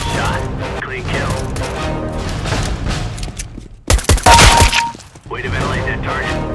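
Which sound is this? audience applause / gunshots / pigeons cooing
gunshots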